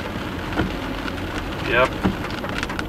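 Rain drums on a moving car while it drives through traffic into a downpour, a steady wash of noise under the engine hum, with a voice briefly speaking.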